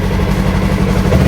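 A small Yamaha 2026 R3 motorcycle idles close by, a steady, even low rumble with no revving, heard alone.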